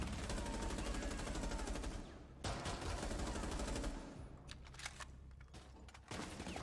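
Rapid automatic gunfire from a gun in Rainbow Six Siege, loud and continuous for about two seconds, then repeated bursts and single shots with brief gaps, with no talk.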